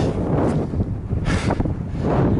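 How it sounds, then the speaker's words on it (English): Strong, steady wind roars and buffets the microphone on a mountain top throughout, with low rumbling gusts and no clear voices. "It's really windy up here"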